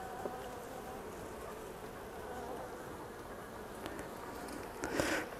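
Honeybees swarm agitated across the hive frames, a steady close buzzing drone holding throughout with a slight swell near the end.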